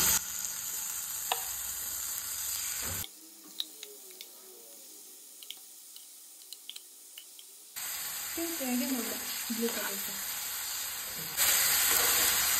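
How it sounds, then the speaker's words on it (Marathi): Marinated prawns frying in hot oil for a Goan-style biryani sizzle loudly and steadily. The hiss drops to a quieter crackle midway, then swells back to full strength. "ही जी सुंगटां आसा पळय न्हू ही न्हू आमी हितून मातशी आतां भाजून घेवपाक जाय"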